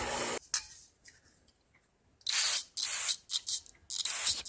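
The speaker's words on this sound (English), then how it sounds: "Spray that off with some parts cleaner and dry it off." Several short bursts of parts cleaner spray onto a small-engine spark plug from a 2023 Craftsman 11A-A2T2793 (M110) mower during seasonal maintenance, with one burst at the start and a cluster of close, loud hisses later.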